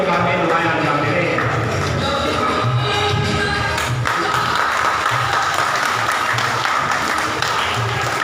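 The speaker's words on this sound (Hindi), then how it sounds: "आपकी भरपूर तालियां होनी चाहिए उनके लिए" Applause from a crowd at a 14 August Independence Day gathering as a speaker comes on stage, steady clapping mixed with murmuring voices and some low rhythmic thumping underneath.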